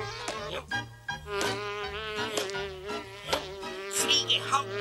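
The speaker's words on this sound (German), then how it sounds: "Fliege, hau ab." A cartoon fly buzzes around close by in a Smurfs animated scene, a whiny, wavering drone that rises and dips in loudness, with a bouncy music bed underneath.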